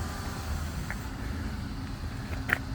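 A car with a V6 Pentastar engine pulls out with a steady, low engine and road rumble, and a couple of faint squeaks stand out above it.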